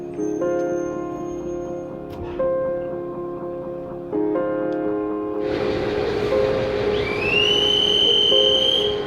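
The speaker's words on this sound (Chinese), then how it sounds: "他在火车的轰鸣声中上了车" At a small rural station, a train sits with a tonal hum and soft ticking before a louder rumbling surge builds as it gets moving, joined by a rising high whine, with no voices.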